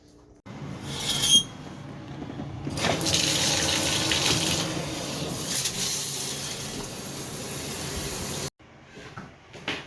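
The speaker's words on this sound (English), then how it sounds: "I'm gonna take a shower and I'm gonna get cleaned up" Shower water running in a bathroom, a steady close hiss of spray that starts abruptly, swells and holds, then cuts off near the end before a brief resumption.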